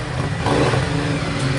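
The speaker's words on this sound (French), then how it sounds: "attendez, laissez passer la moto" A motorcycle passes nearby, its engine a steady, loud mid-pitched roar that fills the moment without any talk.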